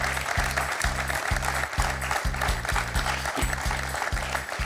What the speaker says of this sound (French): On peut applaudir encore Isabelle.